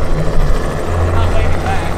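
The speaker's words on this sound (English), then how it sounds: "there's currently a helicopter flying" A sheriff's helicopter flies low overhead near fishing spots, its dense rotor roar loud and steady throughout, with deep thumping low tones and no pause.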